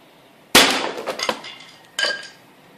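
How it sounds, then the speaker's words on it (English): A sledgehammer strikes a 2mm polycarbonate roofing sheet, a sharp loud crack with rattling ring-out, followed by a second smaller impact about a second and a half later. "for a final test we'll try hitting it with a sledgehammer"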